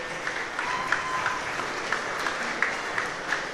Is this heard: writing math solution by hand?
no